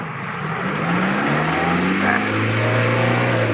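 Car engine revving as the accelerator pedal is pressed, a steady, loud rising drone that climbs in pitch and holds high, heard from inside the car.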